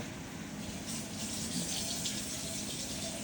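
A little water poured into a simmering pan of bistek tagalog, a soft running pour with faint bubbling and hiss underneath, quiet and continuous throughout.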